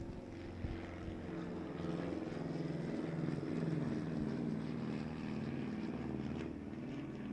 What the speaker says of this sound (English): now we got planes going overhead